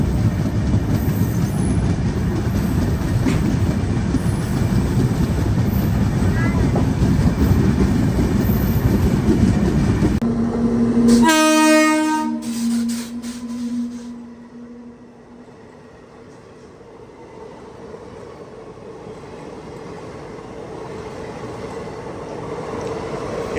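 An intercity train rushes past near Raipur, its loud rolling rumble filling the first half, then a long blaring horn blast with rich harmonics, after which the noise drops to a quiet hum.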